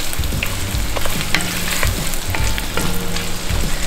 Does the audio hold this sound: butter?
yes